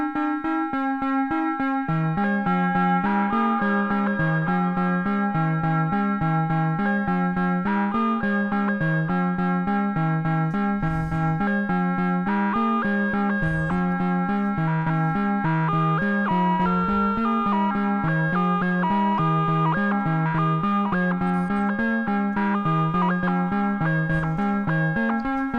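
A sustained synthesizer line pulses in a steady rhythm, its tones washed in a long, echoing reverb tail that blurs the notes together.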